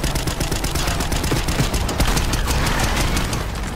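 Rapid automatic gunfire in the video game Call of Duty: Black Ops 6, loud sustained bursts of closely spaced shots rattling without pause.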